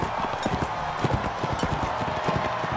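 Horse hooves clip-clop in a quick, steady rhythm as a mounted horse moves about in the medieval combat game Mount & Blade, the hoofbeats close and clear with nothing else over them.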